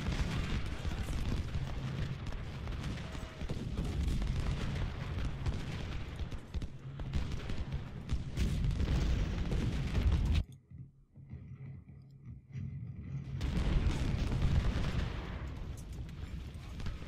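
Artillery fire in the Civil War strategy game Ultimate General: Civil War, Antietam battle: a dense, continuous roar of cannon booms and musketry that drops away briefly before resuming at full loudness.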